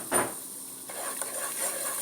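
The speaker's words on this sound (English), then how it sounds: "We're just going to stir." Flour being stirred into pork steak gravy in a pan for country smothered pork steak, a soft scraping swirl with a gentle sizzle underneath, one louder scrape at the start, then steady quieter stirring.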